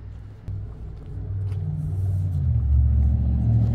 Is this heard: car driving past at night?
yes